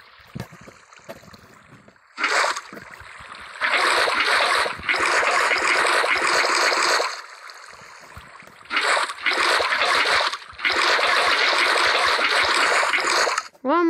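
Rushing water in Minecraft swells in loud, broad bursts that stop and start, with a quieter gap between them and brief faint sounds in the pauses.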